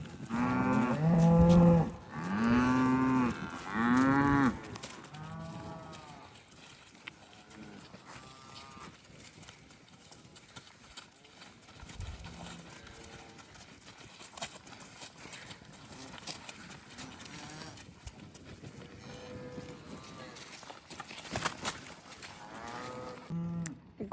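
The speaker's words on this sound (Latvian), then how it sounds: "Reku gotiņas nāk." Cattle moo loudly in a few drawn-out calls as the cows walk into their winter pen, followed by quieter shuffling, hoof steps and scattered lower moos, with distant talk in the background.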